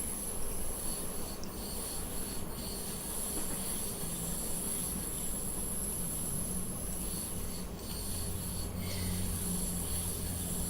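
A train in the Railworks simulator climbs the Mittenwaldbahn mountain line, holding steady speed with a continuous low rumble and rail noise throughout, and a faint squeal appears near the end.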